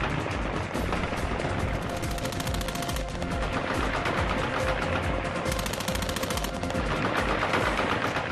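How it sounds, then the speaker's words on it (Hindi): Dense, continuous celebratory gunfire and fireworks from the Taliban after the last American Globemaster aircraft departs, a loud unbroken crackle of overlapping shots and bangs with no pauses. "अमेरिका का आखिरी ग्लोब मास्टर उड़ा तो तालिबान ने अपनी जीत की खुशी में आतिशबाजी की।"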